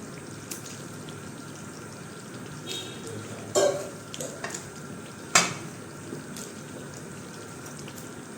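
Pieces of patra dhokli go into ridge gourd cooking in a pot, with a couple of distinct metallic clinks and scraping stirs standing out over a low, steady kitchen hiss.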